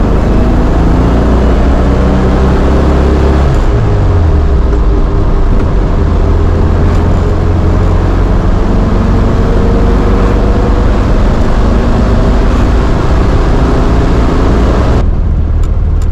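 Loud, continuous droning of a 1972 Volkswagen Karmann Ghia engine while driving, with low rumbling tones that shift in pitch as it changes speed, no voices.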